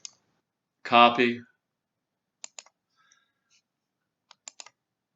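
Sharp computer mouse clicks and a few light keyboard taps sound sparsely in a quiet room, close and faint. A short spoken word comes in near the start.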